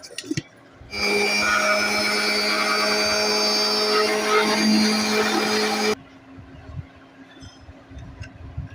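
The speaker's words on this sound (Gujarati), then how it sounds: "લસણ મરચાં આદુને પણ મિક્સરમાં પેસ્ટ બનાવી લેવી" A mixer grinder whirs loudly for about five seconds as it grinds garlic, green chillies and ginger into a paste, starting and stopping abruptly, with quiet kitchen sounds before and after.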